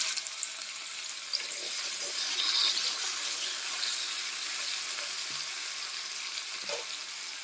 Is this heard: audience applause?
no